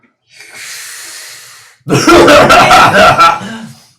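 A breathy exhale is followed by a loud, harsh fit of coughing, several rough bursts close up, trailing off at the end.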